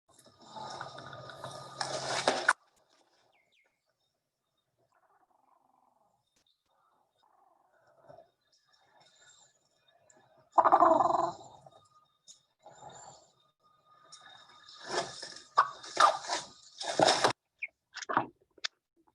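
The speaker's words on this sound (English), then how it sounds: "listen to the noise that the birds were making." Commercial poultry chickens with infectious laryngotracheitis make rattling, gurgling respiratory noises, scattered wheezy bursts separated by quiet stretches, close and fairly faint, with no talking.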